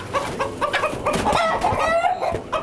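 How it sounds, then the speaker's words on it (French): A multicolored hen with a large double comb clucking up close, a run of loud repeated clucks and short squawks, alone without talk. "c'est une belle poule, elle est multicolore"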